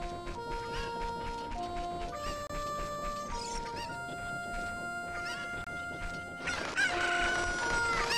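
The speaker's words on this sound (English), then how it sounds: "Oh, but I can get there with one of the chickens." Chickens in Zelda: Ocarina of Time cluck in a run of short synthesized bursts, and a rooster crows loudly near the end over game music.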